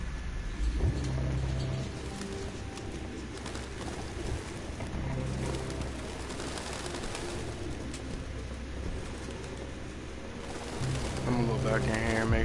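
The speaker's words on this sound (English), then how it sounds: "More birds." Pigeons coo repeatedly in the Detroit: Become Human video game, low rounded calls recurring at intervals over a steady ambient city backdrop, with a voice speaking intermittently.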